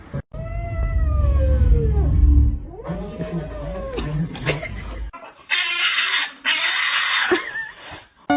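A kitten meows repeatedly in high, drawn-out cries, loud and close, with a person talking around the calls and a brief handling noise near the end.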